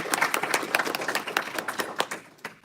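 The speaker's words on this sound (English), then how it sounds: "Round of applause for the speakers." Scattered clapping from a small audience after talks at an evening blockchain and crypto legal session, sparse, uneven hand claps at moderate distance, no voices over it.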